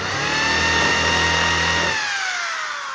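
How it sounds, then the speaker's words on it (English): A power drill countersinking holes in a Cub Cadet Cyclops side panel whines at high speed for a few seconds, then its motor pitch drops as it winds down, close and loud. "we'll countersink them a little bit"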